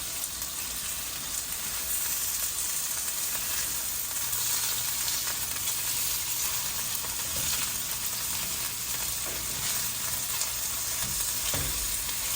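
Breakfast sausage fries over a low fire in a 9x9 cast iron pan, a close, continuous, even sizzle and hiss with no pauses.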